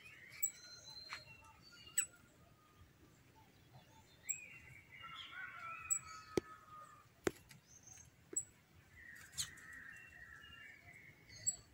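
Near a birdhouse in a home garden with roses, a bird gives scattered short chirps and brief warbled calls against a quiet outdoor background, with a few sharp clicks and a faint voice now and then.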